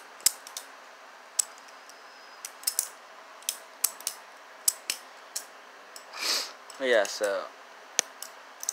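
Sharp metallic clicks and clacks from a butterfly knife being flicked open and closed, its latch missing, in an irregular run of close taps, with a person briefly speaking midway.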